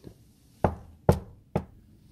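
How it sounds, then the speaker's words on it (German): Three sharp knocks on a door at a convent garden wall, evenly spaced about half a second apart, close and fairly loud against a quiet background. "Und schon sind wir da und klopfen an."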